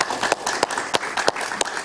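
Brief burst of studio audience applause on a talk show, with scattered sharp claps, fairly close and steady throughout, no voices over it.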